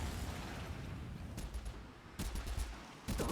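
An electricity weapon fires into a tornado in a video game, producing dense crackling bursts and sharp impacts over a steady rumbling backdrop with no speech.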